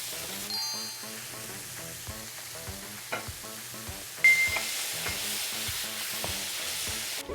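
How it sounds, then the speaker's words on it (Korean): Vegetables for Chinese-style gochu japchae, with bell peppers and paprika cut into strips, sizzle hard in a wok over high heat. A spatula scrapes and clacks in a fast, steady rhythm, and the frying hiss flares louder partway through. "집에서 할 때는 집에 불이 약하기 때문에 최대한 센 불에서 조리를 하신다고 생각하시고 야채를 한 3분의 2 정도만 익힌 다음 소스를 투입하겠습니다."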